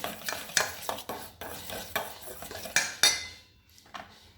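Lemon and ingredients stirred together in a dish for tandoori aubergine, a run of close utensil clinks and scrapes against the bowl in quick irregular strokes, fading near the end, no voices.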